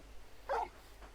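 The large dog Torgal in Final Fantasy XVI lets out one brief, soft whine or yip, faint and isolated against a quiet background.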